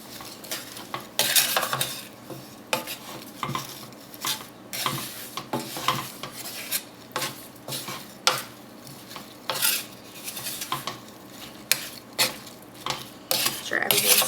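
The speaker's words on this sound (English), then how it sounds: "Give that a quick stir." A spoon stirs sugar, lemon juice and cornstarch in a pan, giving a rhythmic series of close scraping and clinking strokes against the metal with short gaps between them; no voices.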